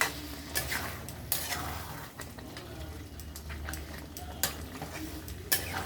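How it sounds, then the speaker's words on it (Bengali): Meat marinated in raw mustard oil, turmeric, salt, coriander powder and garam masala is stirred and sautéed in a pan, with repeated scraping clinks of a utensil over a steady low sizzle, close and moderately loud, no talk. "এবার এটাকে ভালো করে কষিয়ে নেব।"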